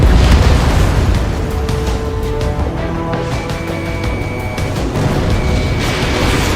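An enemy transport blows up in the Ace Combat 7 flight game, a loud, continuous booming roar with rumbling blasts that dip slightly midway and swell again, set against jet engine noise.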